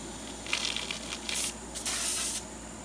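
Aerosol wasp spray hisses from a can into a wasp nest in a Jeep's mirror, in several close, sharp bursts of about half a second each, the last one longer.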